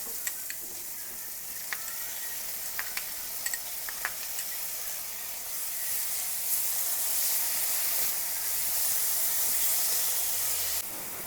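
Chopped tomato drops into a pan of frying onions, setting off a steady loud sizzle and hiss with a few light scraping clicks near the start.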